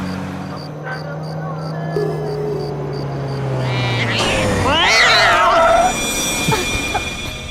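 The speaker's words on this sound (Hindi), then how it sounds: "कुछ नहीं, सामने बिल्ली आ गई इसलिए ब्रेक मारना पड़ा।" A cat meows several times in front of a car on the road, its rising and falling calls fairly close and clear over a steady low engine hum.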